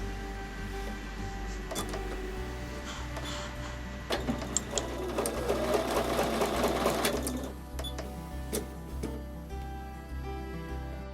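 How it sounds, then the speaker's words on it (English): A home sewing machine stitches quilt block squares in short, fairly loud bursts over a constant background hum, with the busiest stretch in the middle and faint ticks at the end; no one speaks. "I will sew on top of the line on the other side with the other square in the other corner."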